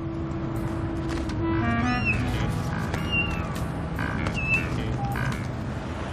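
A cat meows several times, short rising and falling calls over a steady background hum and murmur.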